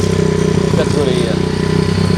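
A custom-built motorcycle engine runs steadily nearby with a loud, even, pulsing rumble, while a voice speaks over it.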